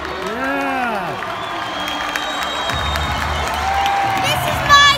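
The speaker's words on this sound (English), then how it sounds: "This is my clap." Crowd clapping and cheering at a Twins versus Angels baseball game after a rain delay, a steady roar of applause and whoops with voices talking close by, swelling louder near the end.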